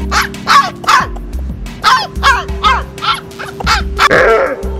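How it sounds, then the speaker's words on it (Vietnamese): A male H'Mong bobtail dog of wild Mông village stock barks indoors in a rapid series of about a dozen sharp, loud, close barks with brief gaps, ending in a rougher, drawn-out bark. "Sủa trong nhà canh gác rất tốt"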